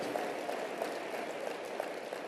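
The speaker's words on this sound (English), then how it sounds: "Give yourselves a round of applause for giving people another shot, another chance." Crowd applause from a live motivational-talk audience, a steady dense wash of clapping at moderate level throughout, with no voice over it.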